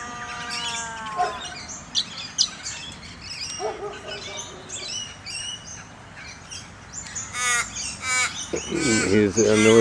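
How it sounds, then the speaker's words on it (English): A crow in a Perth park caws repeatedly in harsh, drawn-out calls, mixed with other birds chirping nearby, and someone speaks over part of it. "Here's a noisy crow."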